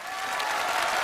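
Audience applause greets a singer at a televised Chinese folk song gala; a dense, steady wash of clapping that holds close and full for about a second.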